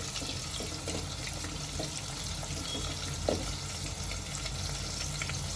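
Chopped onions frying in a pan for khandeshi khichdi, a low even sizzle with faint clinks and one brief scrape, quiet and without talk.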